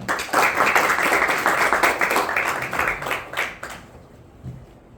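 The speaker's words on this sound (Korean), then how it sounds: "박수로 환영해 주시기 바랍니다." A conference audience applauds to welcome a university professor to the podium, a dense, even wash of clapping that holds for several seconds and then thins out and fades.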